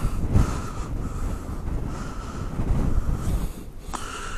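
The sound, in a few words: wind blowing on the microphone outdoors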